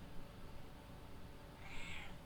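One soft meow from a pet cat near the end, faint against a steady low household drone with no talking.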